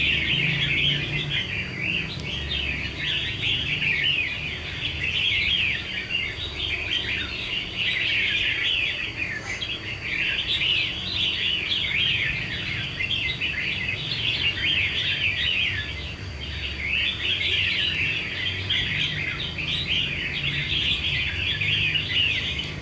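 A red-whiskered bulbul sings in repeated bright, chirping phrases, loud and near, in regular bursts with short pauses between them, with no talking.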